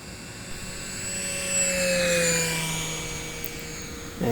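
E-Flite Cirrus SR22T RC model airplane with an electric motor flying past, its whining propeller tone rising and falling in pitch as it nears and recedes, moderately loud outdoors.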